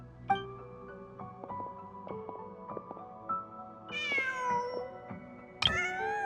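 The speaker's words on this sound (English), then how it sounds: "Huh. Just a cat." A cat in Genshin Impact meows several times in the open world, its calls rising out of a layer of soft game music and ambient effects, with a sharper, louder yowl near the end.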